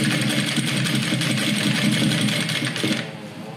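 A sewing machine runs a fast, continuous stitching burst while backstitching on a double box pouch, loud and close, then stops abruptly near the end.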